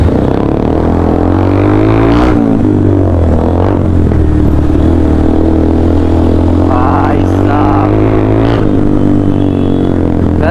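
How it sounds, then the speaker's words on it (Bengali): A Benelli 300 motorcycle engine running close and loud, a throbbing idle with several sharp throttle blips among other bikes in a group ride setting, with people talking over it. "तो गाइस बेलिनी साउंड चेक करो गाइस, खतरनाक साउंड দিচ্ছে"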